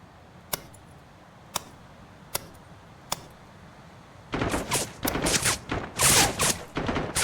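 Gunshots in the video game Dagger Directive: four sharp single shots about a second apart, then a dense, loud burst of rapid automatic fire.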